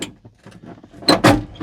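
The door of a Mercedes Unimog is opened with a few faint clicks and rattles, then two loud, close mechanical clunks of the latch and door near the end.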